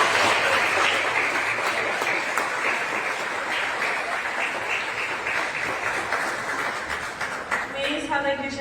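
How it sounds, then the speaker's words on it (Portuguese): A church congregation at a youth worship service applauding, a sustained, full round of clapping from many people that continues steadily, with a voice entering near the end. "aplaudindo Jesus"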